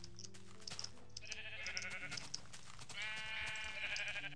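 Sheep bleating in the Minecraft video game, several wavering bleats in succession over about four seconds, clear and close with no talking.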